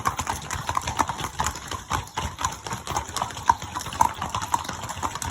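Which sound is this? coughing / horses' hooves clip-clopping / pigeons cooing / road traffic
horses' hooves clip-clopping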